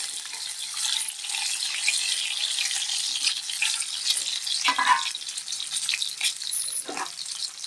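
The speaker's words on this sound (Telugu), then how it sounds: "ఇదిగోండి ఆయిల్ వీటెక్కింది, ఆయిల్లో వేస్తున్నానండి" Turmeric-coated boiled eggs drop into hot oil, giving a steady bright frying sizzle with a few louder crackling spurts, close by and without talk.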